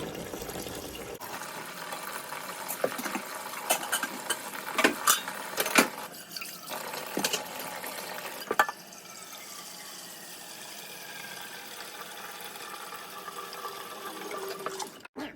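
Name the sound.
sink filling with water for washing greens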